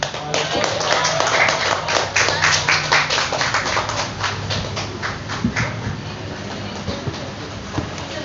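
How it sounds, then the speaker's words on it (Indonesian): Audience at a Pancasila Day speech contest claps for a contestant, a dense, steady patter of many hands running throughout with some murmuring voices underneath. "berikan tepuk tangan yang meriah untuk penampilan dari peserta dengan nomor undian 10"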